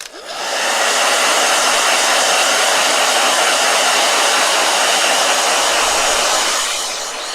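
A blow dryer runs with a steady, loud whooshing hum, starting up abruptly after a brief pause and holding evenly before easing slightly at the end, with no talking over it.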